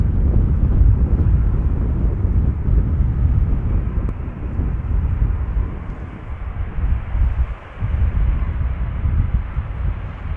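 A KLM airliner roars steadily as it lands at Amsterdam Schiphol Airport, a loud, continuous low rumble with wind buffeting and no clear reverse-thrust surge.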